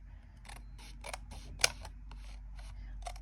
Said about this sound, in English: I'm just going to take my scissors and cut straight up to even off the cut